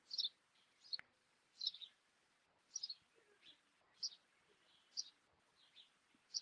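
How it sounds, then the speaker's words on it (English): Birds chirping outdoors, short bright calls repeating roughly once a second, fairly distant and faint against quiet background air. "I hear birds chirping."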